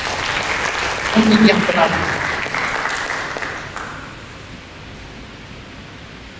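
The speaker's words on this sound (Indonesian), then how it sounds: "Mari kita beri tepuk tangan bagi Yesus" A church congregation applauds together during a worship service, a broad wash of clapping that swells early and then fades to a softer patter, with a voice speaking over it.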